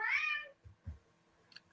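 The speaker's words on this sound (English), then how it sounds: "He's just meowing for the sake of it." A pet cat named Domino gives a single loud, drawn-out meow close by, followed by a few soft low thumps and a faint brief click in an otherwise quiet room.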